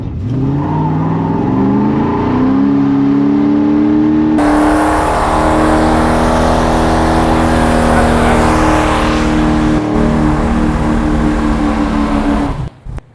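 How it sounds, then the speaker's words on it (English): Big block V8 in a C10 Squarebody pickup held at a loud sustained rev while a tire spins, steady roaring engine with a harsh hissing tire squeal joining midway, close and continuous before cutting off. "Give us one more where Barb's on the side where the tire's spinning."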